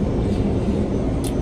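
Steady, loud broadband roar inside an airplane cabin during flight, a continuous engine and air noise with no talking.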